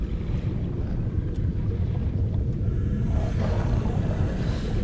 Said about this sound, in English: That roar you're hearing, that sound you're hearing, is not the Reaper. It's just a sand shark.